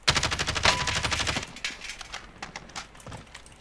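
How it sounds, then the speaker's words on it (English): A rapid burst of automatic gunfire in the video game Warzone rattles for about a second and a half, then gives way to quieter scattered shots and game ambience. "Someone shooting."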